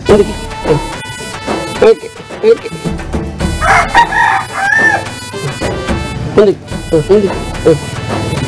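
Chicken in a village yard, clucking and crowing in bursts mixed with close speech, the bird calls standing out near the middle.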